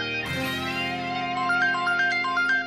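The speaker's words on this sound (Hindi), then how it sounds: "अरे कब से फोन बज रहा है तेरा?" A mobile phone ringtone plays loud and close, a sustained electronic tone with a repeating stepped melody for under three seconds, with no voices.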